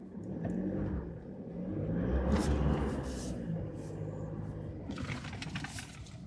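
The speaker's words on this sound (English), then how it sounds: "I'm going to stamp on the accelerator a little bit just to see how that traction control works" A 2023 Toyota Hilux Rogue accelerates hard as traction control engages, with a deep engine rumble swelling then easing, plus bursts of hissing and rushing noise. Nearby the sound stays continuous and fairly loud.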